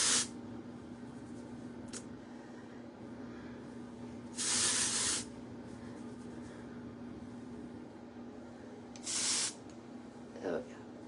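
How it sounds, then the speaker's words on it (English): Clean Freak dry shampoo sprayed onto hair in short hissing bursts, one at the start and two longer sprays later, close and fairly loud over a quiet room hum. "I'm gonna have to use some of this Clean Freak dry shampoo"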